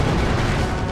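Artillery fire in a Napoleon Total War battle, heard as a brief, loud, deep booming rumble that fills the whole moment with no pause.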